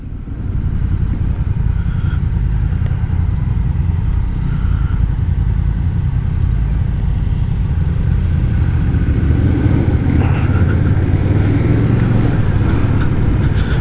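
A 2025 Honda Rebel 1100 DCT motorcycle engine while riding at the Sturgis Rally demos: a loud, continuous low rumble with steady throttle, swelling slightly near the end amid wind rush.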